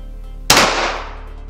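A single sharp gunshot cracks out loudly, followed by a long echoing decay that fades over about a second.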